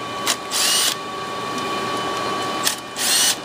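A power tool unscrews the power supply screws on an AlphaServer 4100, giving two short whirring bursts of a small electric driver with a quiet lull and a click between them, close and loud, with no speech.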